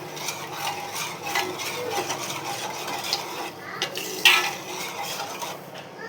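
A spoon stirs chili powder, salt and masala in a metal pan, with repeated scraping and clinking strokes up close, a faint sizzle underneath and one sharper metallic clank partway through; no one speaks.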